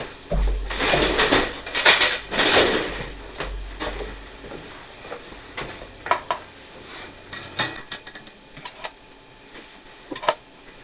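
Small knife scraping and clinking around muffins in metal muffin tins, irregular metallic taps and scrapes at close range with brief louder bursts and quieter pauses, no talking.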